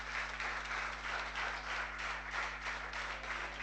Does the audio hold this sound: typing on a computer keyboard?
no